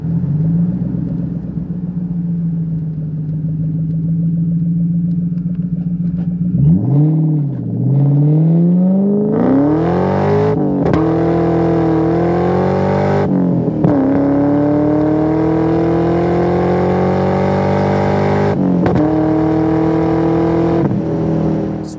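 A Procharged 4.6-liter 2003 Ford Mustang Mach 1 with a 5-speed manual idles with a steady rumble, then revs hard and pulls through several rising gear runs, its supercharged engine loud and close with clear shifts between pulls.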